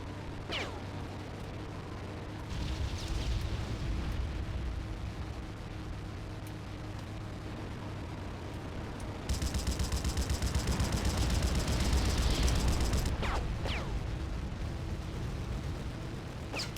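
Defensive gunfire during an aerial battle in the video game Crimson Skies: sustained rattling bursts and booming explosions over a constant engine drone, growing louder and denser midway through.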